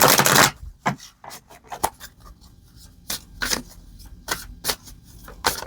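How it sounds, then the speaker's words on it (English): Cards from an animal spirit tarot deck are shuffled and drawn by hand, with a burst of riffling at the start followed by a string of quick, crisp flicks and slaps of card stock at irregular intervals, close and fairly loud. "let's draw an animal spirit card for you"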